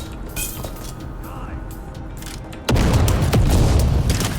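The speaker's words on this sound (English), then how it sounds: "Their grenades do a lot of damage" An enemy grenade explodes in the video game Dune Awakening, a sudden loud boom that cuts in partway and leaves a sustained roaring rumble with scattered clinks and debris.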